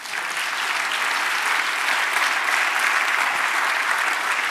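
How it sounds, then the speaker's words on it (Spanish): Church congregation clapping for the Lord, a dense steady wash of applause from many hands that holds at full strength throughout with no voices over it. "Dale un aplauso al Señor."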